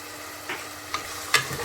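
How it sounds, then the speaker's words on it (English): Onions cook in a pan, heard as a faint background hiss broken by three brief scraping stirs spaced a fraction of a second apart, the last one sharpest. "You don't want to cook the onions too much, get them nice and brown."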